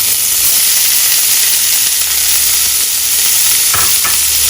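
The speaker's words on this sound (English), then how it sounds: "Now you need to fry this onion very nicely till it becomes golden in color and soft as well." Chopped onions fry in a pan for a Bengali prawn curry, giving a loud, continuous sizzle and hiss with a couple of brief stirring knocks near the end.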